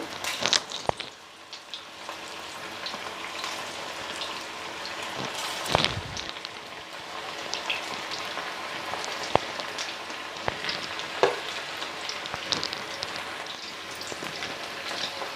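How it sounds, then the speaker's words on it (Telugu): Chicken pakora pieces frying in hot oil on a gas stove give a steady, close crackling sizzle with scattered sharper pops throughout, no voices over it. "గ్యాస్ స్టవ్ కొంచెం మీడియంలో పెట్టుకుని వేయించుకోవాలండి చికెన్ పకోడీ"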